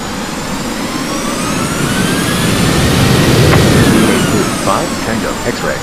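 A Turkish Airlines Boeing 737-800 jet lands with a loud, steady roar of broadband engine noise and a rising whine near mid-clip. No talk is heard.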